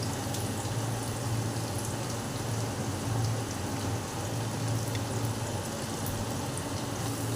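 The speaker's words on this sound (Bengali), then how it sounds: "তেলটা গরম হয়ে গেছে, আমি গাজরটা দিয়ে দিলাম প্রথমে।" Carrots sizzle in hot oil for fried rice, making a continuous crackling, rain-like spatter that stays even and fairly soft throughout.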